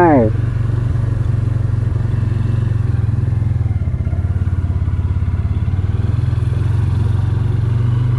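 A Hero Hunk 160R 4V commuter motorcycle, started in first gear with the clutch pressed and the side stand raised, runs at a steady, loud idle from start to finish, with someone talking over it.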